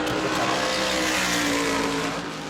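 A NASCAR Whelen Modified Tour race car runs a qualifying lap at New Smyrna, its engine holding a loud, sustained, slightly rising drone with tire scrub as it works through the turns.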